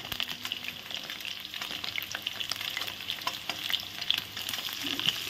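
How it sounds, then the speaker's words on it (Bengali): Potatoes frying in a pan with salt and turmeric, giving a continuous close sizzle and crackle with occasional stirring scrapes, no talking. "হলুদ দিয়ে আলুগুলো ভালো করে এখন ভেজে নেব।"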